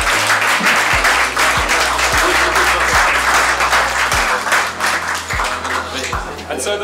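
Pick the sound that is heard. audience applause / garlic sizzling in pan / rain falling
audience applause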